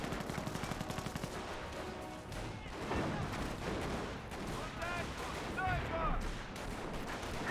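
A mortar half-track barrage in Company of Heroes, a dense run of gunfire cracks and booming impacts layered over continuous battle noise, with some clattering bursts standing out.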